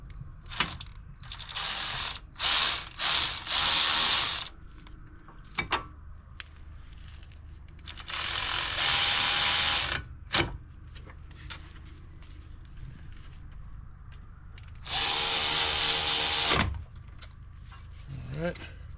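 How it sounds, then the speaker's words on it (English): A battery powered ratchet works on the brake caliper of a 2006 Volvo XC70 during a hub bearing job, whirring in several short, loud bursts separated by quieter clanks and shop noise. "Use our battery powered ratchet here."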